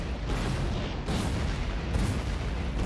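A few muffled booms from small cliff explosives detonating in the game Factorio, dull low thuds rising out of a continuous rumbling background.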